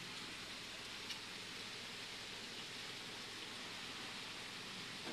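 Steady rain falls continuously, a constant broadband hiss with no distinct drops standing out and no talk over it.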